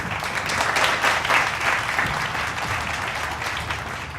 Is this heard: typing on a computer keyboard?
no